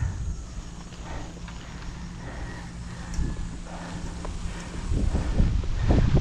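Wind gusts buffet the microphone on a hilltop during a bicycle ride, a continuous low rushing that swells toward the end, with faint clicks and rustles from the bike.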